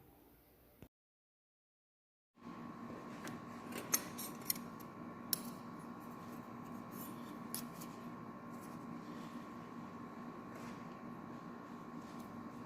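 Scissors trimming a part to length for a brake system, heard as a few faint, sharp clipping snips over steady background hum, after a short silent gap.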